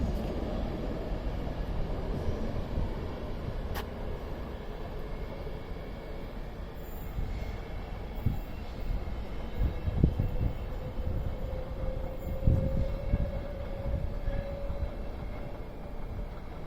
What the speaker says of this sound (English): Departing now was the delayed 11:05 Northern service to Stockport from Alderley Edge